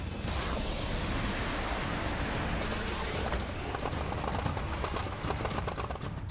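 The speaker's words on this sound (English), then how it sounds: "As the convoy pushes forward, it opens fire on the Ukrainian defenses." Dense, continuous gunfire as a military convoy exchanges fire with Ukrainian defenders, sustained bursts of machine-gun rattle with sharper individual shots growing more distinct toward the end, loud and unbroken throughout.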